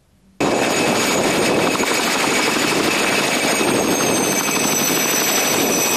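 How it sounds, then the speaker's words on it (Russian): A Mi-2 air ambulance helicopter, painted in yellow and red, lands in a city-centre square in Saratov. Its loud, steady rotor and engine roar starts abruptly and holds close and constant throughout, with no voices. "Первое приземление санитарного вертолета Ми-2 в самом центре Саратова."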